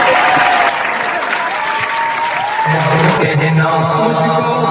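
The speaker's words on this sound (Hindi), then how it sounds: "अब आपकी भरपूर तालियों में उस्ताद को सलाम और अकीदत पेश करने के लिए हमारी बच्चियां अशरा, मिसबा और उसकी टीम स्टेज" Loud, dense applause from an audience at an Islamic school program, a sustained clatter of clapping that thins out toward the end as music or a voice begins to come in.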